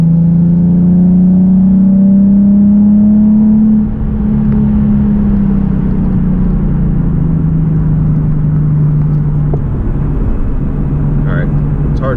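Car interior during acceleration after a mass airflow sensor fix, with a loud, steady engine rumble and a rising then settling whir through the drive, under continuous road noise.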